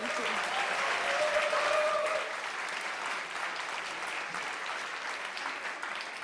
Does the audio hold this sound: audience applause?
yes